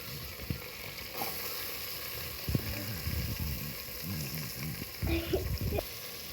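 Sliced onions sauté in a pan for a country chicken biryani, giving a steady close sizzle with occasional clatter from stirring throughout.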